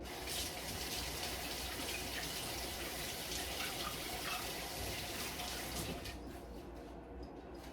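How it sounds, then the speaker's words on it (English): Running tap water pours steadily into a sink while hands are washed, a continuous soft gushing hiss at low level that thins out toward the end. "I gotta wash my hands real quick"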